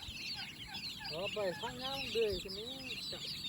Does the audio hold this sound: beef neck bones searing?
no